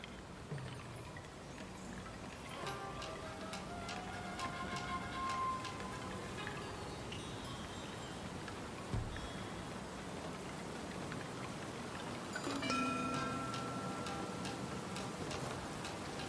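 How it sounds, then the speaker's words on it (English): Soft, steady rain patters with scattered ticking drops in the side-scrolling samurai video game Trek to Yomi, quiet and continuous, with a few brighter tapping bursts along the way. "it's raining"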